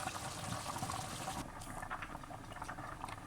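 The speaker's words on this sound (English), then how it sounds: "Okay kids, so the potatoes has been boiling for about 20 minutes." Potatoes simmering in a pot of water on a stove at medium heat, a faint, steady bubbling hiss that runs continuously on its own without talk.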